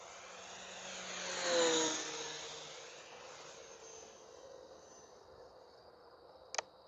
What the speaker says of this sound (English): Let's do a speed pass. It's not the fastest plane, but it does sound good.